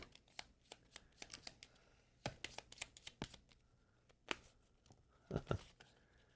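Cards from the Chronicles of Drunagor: Age of Darkness board game being shuffled by hand at a table, quick crisp riffling bursts and sharp snaps, close and fairly quiet, with no talk.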